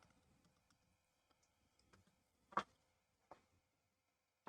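Sparse, quiet keyboard clicks tap at irregular intervals, a few keystrokes louder than others, in an otherwise silent room.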